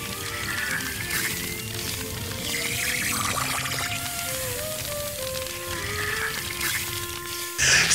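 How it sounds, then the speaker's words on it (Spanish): Water spraying from a toy fire truck hose, a continuous hissing splash heard under bright musical tones, ending with a sudden burst near the close. "Y ahora, abramos el agua."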